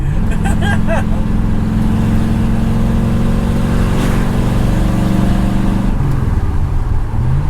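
A 1964 Ford Galaxie 500's engine idles and rumbles close by with no exhaust fitted, a loud, raw, unmuffled roar, continuous throughout.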